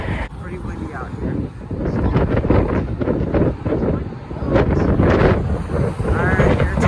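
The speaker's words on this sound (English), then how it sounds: "Pretty windy out here." Strong wind buffets the microphone outdoors near LAX airport, a loud steady rumble with gusts swelling and easing throughout, while a person talks over it.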